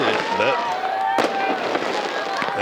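Fireworks popping and crackling above an outdoor youth football championship game, a sharp burst standing out mid-clip over steady crowd noise and a commentator speaking throughout.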